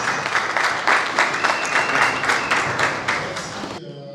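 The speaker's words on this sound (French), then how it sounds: "sous les acclamations de l'assistance." An audience at a university presentation applauds in a steady, rhythmic wave of clapping with some crowd noise, fairly close and full, then cutting off abruptly into a brief tonal sound at the end.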